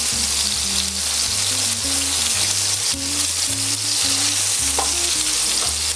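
Monkfish medallions pan-fry in a hot pan with a loud, continuous sizzle and crackle that lasts the whole stretch, with background music running underneath.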